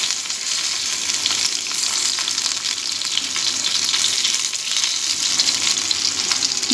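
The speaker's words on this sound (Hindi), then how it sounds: "इस साइड को हम दोबारा से फ्राई करेंगे" Vetki (Asian sea bass) pieces coated in masala fry in a pan, giving a steady, loud, close sizzle with bright crackle that runs unbroken throughout, with no voices.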